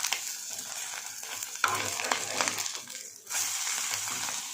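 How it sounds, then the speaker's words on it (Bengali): Eggs frying in a pan on a home stove, with a soft hiss of oil and a few scraping turns of a spatula, close but fairly quiet, the sizzle briefly dipping before it swells again. "আর এই হচ্ছে ডিম ভাজছি।"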